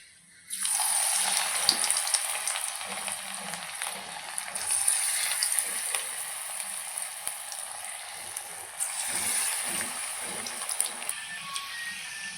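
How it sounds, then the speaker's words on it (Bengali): Cauliflower pakoras deep-fry in oil in a small wok, giving a loud, continuous bubbling sizzle that starts abruptly and holds steady to the end. "পকোড়া ভেজে নিচ্ছি দেখুন"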